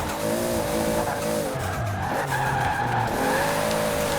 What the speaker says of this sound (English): So doing a bit of night drifting through the city.